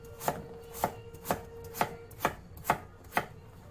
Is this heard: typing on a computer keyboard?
no